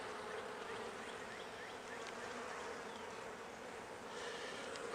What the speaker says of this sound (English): So it's amazing hive.